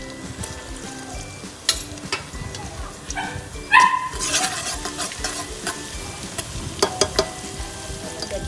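Ginger-garlic paste hits hot oil with whole spices such as cloves, cinnamon and cardamom, giving a low, steady sizzle and stirring punctuated by a few sharper, louder clatters and bursts.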